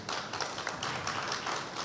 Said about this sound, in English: a round of applause, absolutely